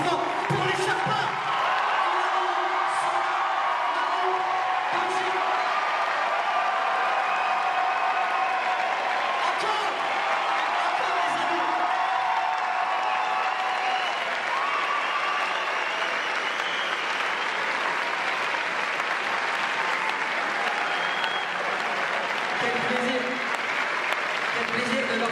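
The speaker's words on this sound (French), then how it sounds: "Faites un tonnerre d'applaudissements pour les Sherpas." A large audience at the Grand Rex theatre in Paris gives sustained, dense applause at a documentary premiere, with scattered cheers and whoops over a steady clapping roar.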